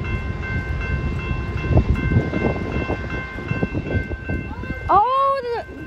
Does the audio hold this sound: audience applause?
no